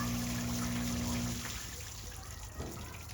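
Water sloshing and trickling inside a full-size washing machine during its rinse cycle, a steady wash of liquid noise under a low electrical hum that drops away after a second or so.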